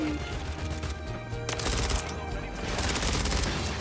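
Bursts of rapid hip-fired shots from an ISO 9mm SMG in the game MW3, loud and close, firing in quick repeated volleys across the whole stretch with game effects underneath.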